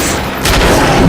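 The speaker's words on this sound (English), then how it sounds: "Carbine is our burst fire rifle." A burst-fire carbine rifle in The Darkness II goes off as a short, loud volley of gunfire, with sharp cracks that blur together and a booming tail after a quiet instant.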